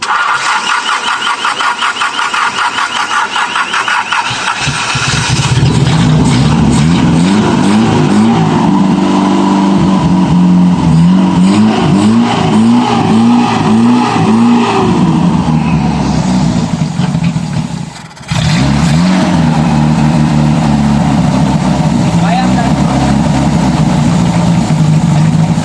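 A newly built Tamiya car motor starts and then runs loudly and steadily, alone and close by, with a brief dropout partway through.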